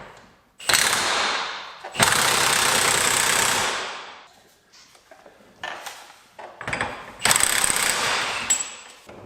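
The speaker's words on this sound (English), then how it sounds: "The next thing that we want to do is loosen this axle nut. I'm going to use a big ratchet to do it." A big ratchet works loose a car's axle nut during a wheel bearing job. Loud, close bursts of harsh mechanical grinding and rattling come in several long runs with short pauses between.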